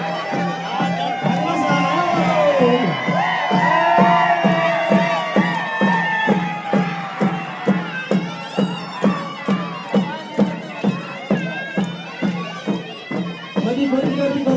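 A large crowd at the Janori Bohada festival murmurs and calls out while a loud voice carries over it and a steady run of regular, evenly spaced beats thumps through the second half.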